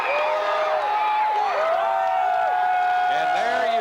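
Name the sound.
elated St. Francis Flyers crowd cheering after state championship win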